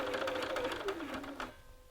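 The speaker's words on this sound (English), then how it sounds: "stitch across the folded pleat to anchor it in place" A home sewing machine stitches across a folded back pleat in fabric, a fast mechanical whirr with rapid ticking that runs steadily, then stops abruptly near the end, leaving quiet.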